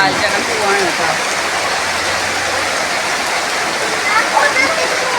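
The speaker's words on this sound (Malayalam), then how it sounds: "നല്ല മഴ" Heavy monsoon rain pours steadily throughout, a dense, continuous roar of water falling close by, loud and unbroken, with faint voices now and then underneath.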